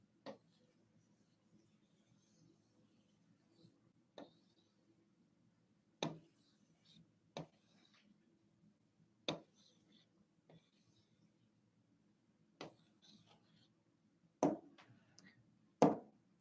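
Marker or chalk writing on a classroom board in sparse, irregular scratchy bursts separated by long quiet gaps, fairly faint and close.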